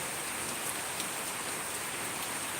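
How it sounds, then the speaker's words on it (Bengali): Heavy monsoon rain falls on a village, a dense, even hiss of downpour with scattered drop taps, steady and fairly close, with no voices. "দেখেন গ্রামেও প্রচণ্ড বৃষ্টি"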